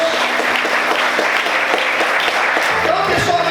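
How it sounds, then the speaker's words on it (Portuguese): Steady applause from a church congregation during a Portuguese-language worship service, loud and continuous, with voices and some musical tones mixed in beneath the clapping. "Você pode aplaudir e exaltar o Senhor"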